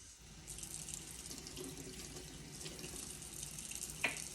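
A tap runs into a sink while paint brushes are being cleaned, giving a steady, faint rushing stream with a brief splash near the end.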